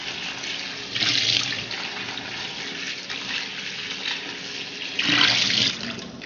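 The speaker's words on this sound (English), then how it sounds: "I'll just rinse it in cold water." Green chili peppers are rinsed under a running kitchen tap, the water splashing steadily and surging louder twice as the peppers pass through the stream.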